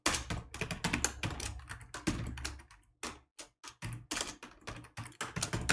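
Typing on a computer keyboard while writing Python code, with rapid irregular bursts of clicking keystrokes and short pauses between words, close and fairly quiet, no talking.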